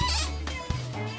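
Goats at a children's farm petting area give a couple of close, nasal bleats in quick succession, short and fairly loud over a quiet background.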